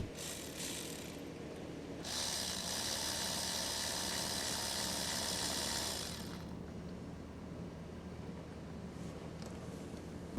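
Ratcheting tool work while removing the rail pressure regulator valve from a BMW 520d diesel with a no-start fault and metal filings in the fuel line, a steady close mechanical clicking run, loudest in the middle stretch.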